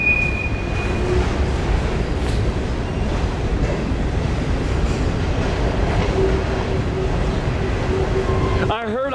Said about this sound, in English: thought somebody was in here working, and it's the train